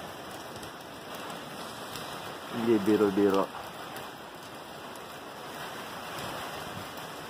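Strong wind from Typhoon Ulysses blows at night in Angeles City, Pampanga, Philippines, as a constant gusty roar with a rain-like hiss. A person speaks briefly midway.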